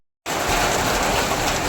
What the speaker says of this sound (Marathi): एवढा पाऊस पडतोय.